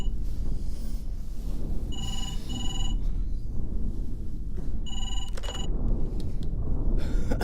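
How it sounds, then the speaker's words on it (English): A telephone rings in two short bursts of bright electronic trilling, repeated over a low background rumble with no voices. "Nick, it's the phone."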